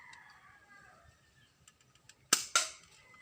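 Spring-type airsoft Glock 17 pistol firing plastic pellets outdoors: two sharp, close snapping pops in quick succession after a quiet stretch of faint background noise.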